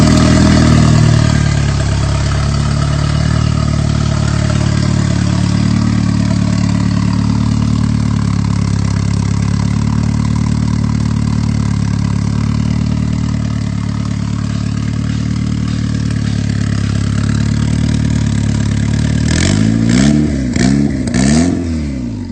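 A built-up Honda B20B engine running just after installation, idling loudly and steadily close by with a rough, throbbing low rumble, then a few quick revs near the end, no talking.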